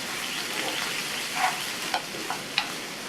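Chopped onion, capsicum and tomato sauté in a pan with a steady, soft sizzle, broken by a few light scraping stirs of a spoon, close and without talk.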